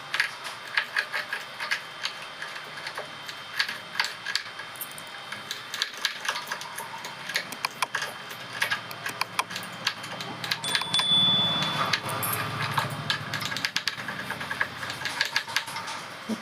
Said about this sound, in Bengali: এখন ছোটো ছোটো করে স্লাইস করে আদাটা কেটে নিচ্ছি